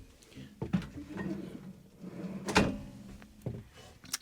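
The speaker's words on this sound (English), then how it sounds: "Some pull out drawers." Pull-out drawers in a motorhome kitchen slide open and shut in several short, sharp knocks and rattles, close and fairly quiet, with soft handling noises between them.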